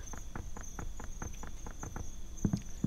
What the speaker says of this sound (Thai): เสียงจิ้งหลงจิ้งหรีดก็เข้ามานะ